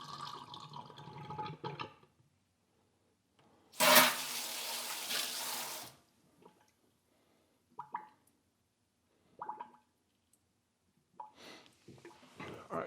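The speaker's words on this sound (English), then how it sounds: "Little plug, so you just blast it with the hose." A hose blasts water through brewing equipment to flush out hops, a loud two-second gush of spray standing out between quieter drips, clanks and handling noises, with no talking.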